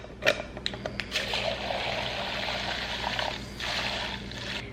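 Clean water pours into a makeup brush cleaner bowl, a steady close trickle and splash lasting several seconds with small clinks at the start.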